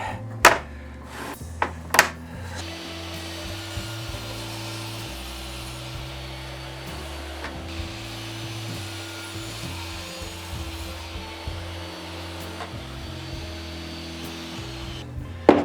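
Sawing cuts through a battery separator for an 86 kWh battery pack build, a steady rasping saw stroke running continuously near the mic with sharp knocks at the start and end.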